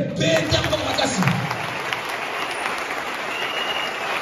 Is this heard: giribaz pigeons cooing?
no